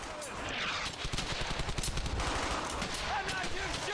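Rapid machine-gun bursts crackle in Brothers in Arms: Hell's Highway, a World War II shooter, with a quick rattling run of shots over a steady wash of battle noise.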